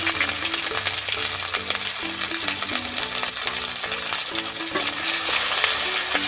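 Chopped ginger frying in oil with bay leaf and five-spice seeds, a loud, close sizzle with stirring, heard under background music and with no talking.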